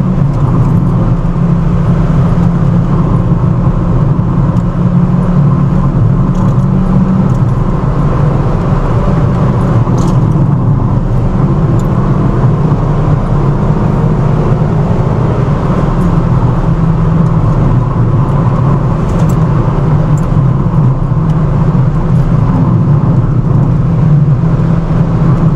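A car overtaking on a road produces a loud, constant engine and tyre roar heard close up. The drone holds steady, without pause or a clear pass-by, for about twenty-five seconds.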